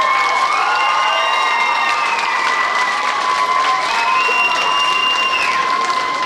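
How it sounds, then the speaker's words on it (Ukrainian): Audience at a student contest applauding and cheering continuously, a dense wash of clapping and shouts that stays loud and steady throughout, with bright sustained tones running underneath. "Отже, аплодуйте, болівайте та за мене кулаки тримайте"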